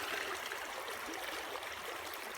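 Water sloshed and poured out of a gold pan while panning for gold in Wyoming, a steady, soft rushing trickle throughout, fairly faint and with no voices.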